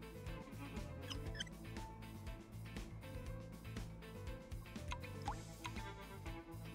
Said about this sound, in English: Make sure you count the drops that drip down.